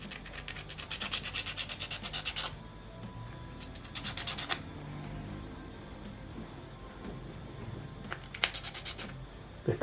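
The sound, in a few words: sanding a small model kit piece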